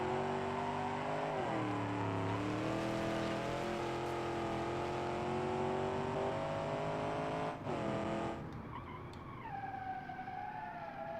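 A car engine in the BeamNG.drive driving game revs and pulls hard, its pitch dipping and climbing as the throttle is fed through a corner. The tone drops sharply near the end, with faint tire noise under the steady, loud engine drone.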